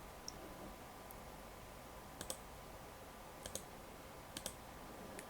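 A computer mouse clicking while a desktop shortcut is made: a few faint, sharp clicks, some in quick pairs, spaced out over a steady low room hum with no talking.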